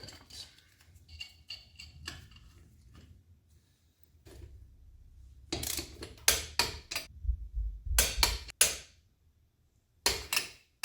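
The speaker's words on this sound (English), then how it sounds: "And I'm just going to put these lug nuts on as normal, and these get torqued down toward the specification" Lug nuts on a Polaris RZR 570 wheel fitted with spacers are torqued down to spec with a hand tool, giving a quiet run of light ratcheting ticks followed by louder bursts of sharp clicks and clacks close by.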